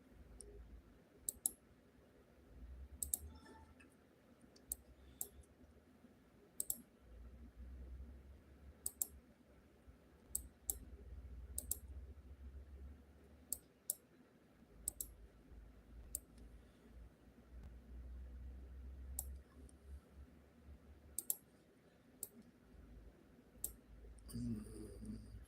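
Rapid mouse clicks, sharp and close, come in irregular bursts as someone quickly clicks through a series of stock-market press releases, with a low room hum underneath and a brief rustle near the end.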